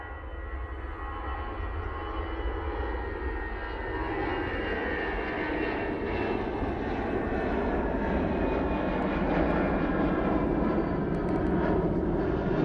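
A TUI airliner passes near Manchester Airport, its jet engine roar building gradually from a moderate level into a fuller, louder rumble as it draws closer, with no voices.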